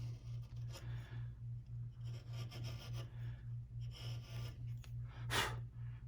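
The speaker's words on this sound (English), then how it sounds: "Going to use this nice sharp chisel. I'm trying to get rid of the saw marks left by the bandsaw blade." A sharp chisel pares bandsaw marks off a wooden marking gauge part, making quiet, repeated rubbing strokes close up over a low steady hum, with one brighter scrape near the end.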